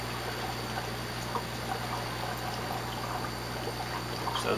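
Water trickles and splashes through an upflow algae scrubber in an aquarium filtration setup, as rising bubbles carry it across the screen; a steady, close, continuous burble with a low hum beneath it.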